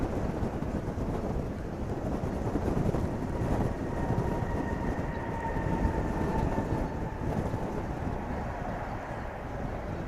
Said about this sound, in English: It's an A319 American Airlines Flight 2468.